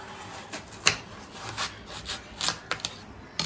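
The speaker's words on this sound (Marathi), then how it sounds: "खूप कठीण आहे हे कापणं" A knife works through a hard fruit in close, repeated rasping strokes, some uneven and scraping, with sharper snaps among them and no talking.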